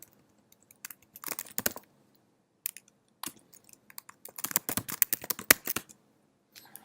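Short bursts of keystrokes clatter on a computer keyboard while commands are typed at a command prompt, with quiet pauses between the clusters of taps.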